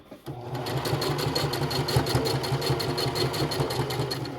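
A sewing machine stitching tote bag seams runs at a steady fast rhythmic whir and clatter, loud and close, starting abruptly and continuing without pause.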